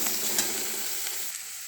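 Chopped garlic frying in a pan, a steady close hiss and sizzle with a faint stir partway through, fading slightly toward the end.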